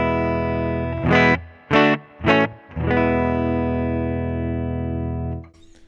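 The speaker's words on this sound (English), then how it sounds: "Here's the sound of the guitar clean without the pedal on." Clean electric guitar played through a 1965 reissue Fender Princeton Reverb amp with no pedal, close-miked with a Shure SM57: a few short strummed chords and then one long, sustained ringing chord that fades out, loud and alone.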